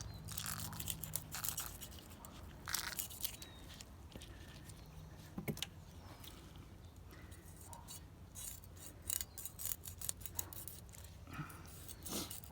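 Faint, irregular crunching and scraping as a knife cuts through an American shad caught on the Columbia River near Bonneville Dam, with soft outdoor background noise and no talking.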